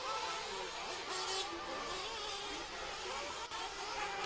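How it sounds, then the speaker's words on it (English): RC trucks racing around a track during a qualifying heat, a continuous high-pitched buzzing whine of small electric motors that stays steady and fairly close throughout, with no talk. "this is our second heat of truck taking the track right now"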